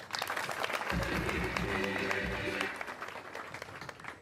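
Audience clapping at a boys' school academic day, a moderate round of applause from the assembly heard a little distant, with a low tonal hum and murmured voices partway through.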